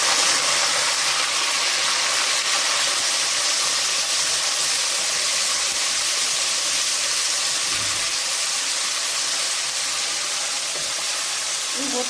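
Meat sizzles in very hot oil in a pan while lagman is being cooked: a continuous loud, even frying hiss with a crackling texture that stays steady throughout.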